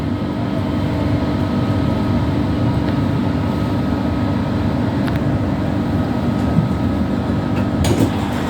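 A Qatar metro train running through Lusail metro station, a steady, loud rumble and hum of rolling stock that holds evenly throughout, with a brief brighter squeal or clatter near the end and no talking.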